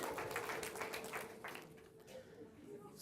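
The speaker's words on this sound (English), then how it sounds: "Give him a big round of applause." Audience applause in a talk or lecture hall, a thin, fairly quiet patter of clapping that fades under a speaker's voice as the talk goes on.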